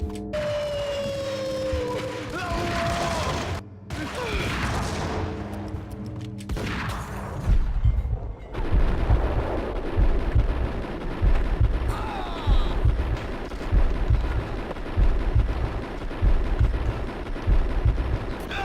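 Uzi gunfire in the video game Max Payne: after some tonal game sounds and short sharp reports, a sustained loud stretch of rapid automatic shots and impacts mixed with a voice talking over it.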